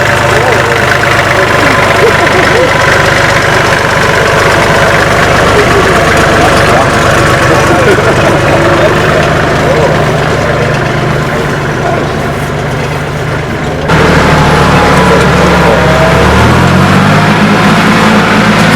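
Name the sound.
tractor engine running in a tunnel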